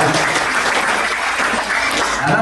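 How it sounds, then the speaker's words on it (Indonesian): An audience of Pekanbaru residents of Lampung origin bursts into loud, dense applause at a formal gathering, a thick continuous roar of clapping filling the full two and a half seconds. "Tepuk tangan dulu."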